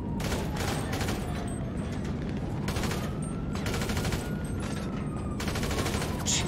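Rapid bursts of gunfire in a squad shooter game, dense overlapping shots from several weapons crackling continuously and fairly loud, with faint distant booms mixed in.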